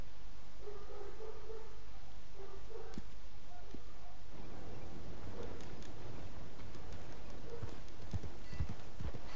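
Horse hooves clip-clopping in the video game Red Dead Redemption 2, a steady rhythmic trot under game ambience, with a few faint tonal calls early on and no talk over it.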